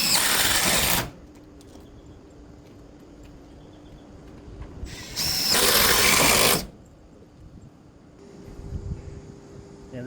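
A drill drives batten screws into roof rafters for an insulated patio roof, heard as two loud, close bursts of whirring, the second longer, with quiet pauses between them and faint handling noise.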